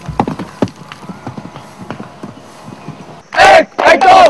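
Horses ridden by cadets at the National Defence Academy give a run of sharp hoof clip-clops, moderately close and uneven in rhythm, before a louder burst of sound covers the end.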